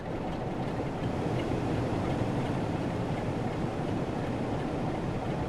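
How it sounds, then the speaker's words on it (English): A steady, rumbling Class 165 train engine in Train Sim World 5, modded sound, drones continuously at an even level, with a faint rhythmic rattle underneath. "It's your 165 sound modded, of course."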